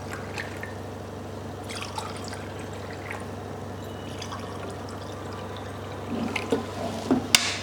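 Mineral water is poured into glasses, a soft continuous trickle over a low steady hum, with a few light drips and a sharp clink of glass toward the end.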